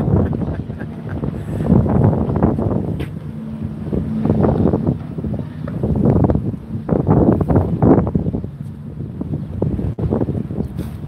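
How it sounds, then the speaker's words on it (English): Strong wind buffets the microphone in uneven, rumbling gusts that swell and fade across the whole stretch, loud and close, outdoors in Laughlin, Nevada, with no voices. "That means that wind is pretty strong for sure"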